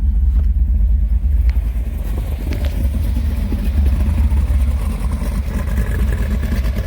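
A Porsche 914 fitted with a V8 engine rumbles loudly and steadily at about 1,500 to 2,000 RPM, a deep idling growl with little change in pitch, close by.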